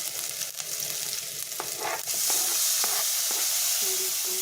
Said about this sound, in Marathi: मग आता टाकूया टोमॅटो